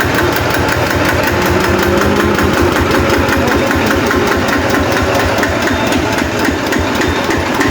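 A walk-behind tractor's small engine runs steadily and loudly throughout, with a rapid, rough thumping rhythm and no voices.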